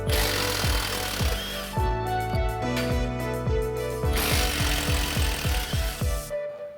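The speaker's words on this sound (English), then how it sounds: "Remove the 2 bolts that are holding the bottom strut in. It's a 15mm socket." A tool loosens the two bolts holding the bottom strut of a Chevy Silverado 1500 during a leveling-kit install, a loud rapid rattling hammer of impacts in bursts with clanking metallic ring, cutting off abruptly at the end.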